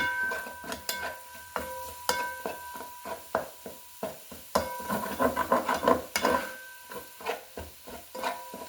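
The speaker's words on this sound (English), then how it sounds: "I'm gonna mix that in with my meat while it's browning" Spoon scraping and knocking in a pan as homemade chili seasoning is stirred into lean ground turkey browning on the stove, a steady run of close, irregular clicks and scrapes with a faint sizzle beneath.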